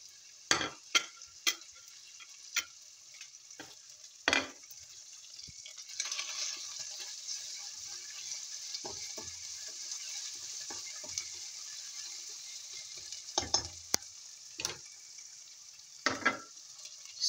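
Shredded boiled chicken is stirred into a pan of Filipino lomi, giving soft, quiet stirring and faint sizzle with sharp clicks and scrapes of a utensil against the pan at irregular intervals.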